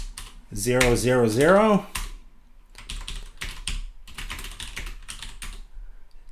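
A chmod command being typed on a computer keyboard in a Linux terminal: after an opening tonal vocal sound, clusters of quick key clicks follow in uneven bursts, close and fairly clear.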